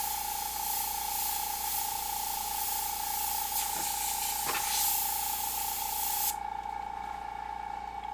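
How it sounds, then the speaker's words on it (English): An airbrush sprays paint with a steady, even hiss and a constant tone beneath it, close and fairly quiet, until the spray cuts off near the end and only a softer background hiss remains. "my brush isn't spraying as good"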